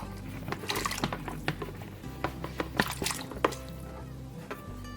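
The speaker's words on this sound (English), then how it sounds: "Now I'm gonna add in that remaining cup of water, my enchilada sauce, the Velveeta that I've cut up into cubes" Water and enchilada sauce are poured into a pot with cubed Velveeta, giving close, wet splashes, drips and squishy glugs in irregular bursts over a low background hum.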